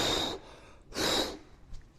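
Two rescue breaths blown into an infant's mouth and nose during infant CPR, each a soft, close, breathy puff separated by a short pause.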